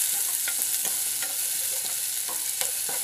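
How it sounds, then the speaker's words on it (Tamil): Cauliflower and vegetables for gobi pepper fry hiss in a hot pan with a steady, close sizzle, broken by occasional light clicks and scrapes of stirring. "போட்டு நல்லா ஃப்ரை பண்ணுங்க."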